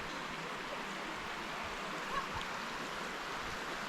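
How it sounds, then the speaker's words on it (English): A creek flows below a rail bridge, producing a steady, soft rushing wash of water that stays even and fairly faint throughout, with no voices. "Got the creek side below"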